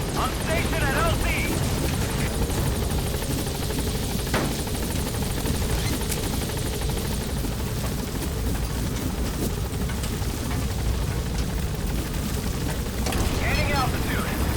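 B-Quad helicopter at a landing zone in Metal Gear Solid 5, its rotor and engine roar loud and continuous throughout, with brief higher chirps near the start and end.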